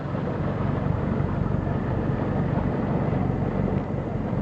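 A 2013 Mercury 150 hp four-stroke outboard engine idling on a boat, a steady low rumbling drone with faint wind noise, constant and moderately close throughout.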